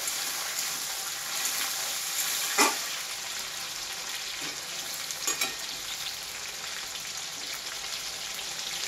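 Fish fat sizzles steadily in a pan with onion and chili, a continuous hissing fry with a few brief stirring clatters near the middle and later on, heard close and alone without speech.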